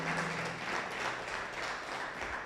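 A church congregation applauds with steady, dense clapping throughout, moderately distant and without talk.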